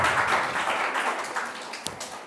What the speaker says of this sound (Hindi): वाह, जोरदार तालियां।